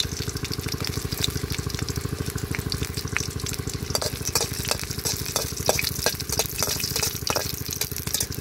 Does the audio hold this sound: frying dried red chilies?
yes